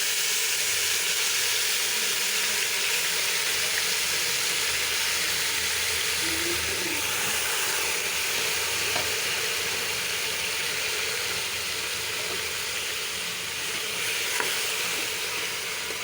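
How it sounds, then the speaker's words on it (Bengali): Beef coated with garam masala fries in a little oil while being stirred: a steady, close sizzle and hiss with scraping stir strokes running throughout, no voices. "তারপর সেটি মাংসটা কষানো হইতেছে। সাদা মাংস, এটা তেল একদম ভাজা ভাজা করতে হবে।"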